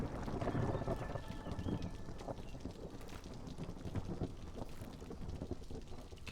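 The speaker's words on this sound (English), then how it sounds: "Storm is coming." Storm wind sweeps through the colony-building game Against the Storm, a steady broadband roar with gusty swells and rumble, loud and continuous with no voices.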